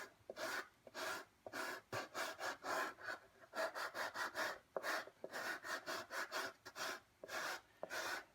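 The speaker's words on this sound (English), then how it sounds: "start sanding away" Coarse 60-grit sandpaper glued to a paint stirrer rasps across a Boba Fett helmet in quick, steady back-and-forth strokes, close and continuous with short pauses between runs.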